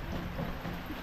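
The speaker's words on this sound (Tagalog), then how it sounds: "May ulan." Broadband hiss of steady rainfall with a low rumble underneath, fairly faint and continuous for about a second, heard in the Philippines.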